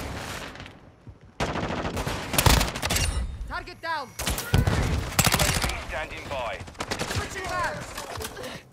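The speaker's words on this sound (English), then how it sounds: "Taking effective fire!" Rapid automatic gunfire and explosive bursts from the video game Modern Warfare 2, dense and loud across the clip, with voices and radio-style callouts mixed in.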